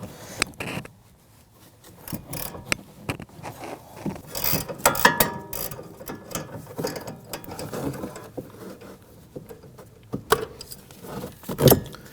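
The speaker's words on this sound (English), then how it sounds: "we're going to transition into a 15mm gear wrench here" A 15mm gear wrench ratchets on a front sway bar link nut of a 2009-2017 Volvo XC60, giving quiet, irregular metallic clicks and clinks spread across the stretch, with a sharper burst near the end and no talking.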